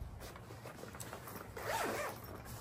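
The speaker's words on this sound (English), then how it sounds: "Zip it up quickly." Zipper on a travel laptop backpack being pulled shut in one quick, rasping zip, close and quiet with no talk.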